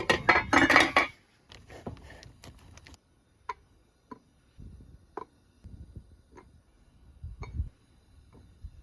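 A knife cutting a big brick of butter into small cubes, a clattering start followed by sparse, quiet taps and clicks of the blade meeting the board at irregular intervals.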